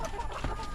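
Egg-laying backyard hens kept as poultry give a short, close cluck over low farmyard noise.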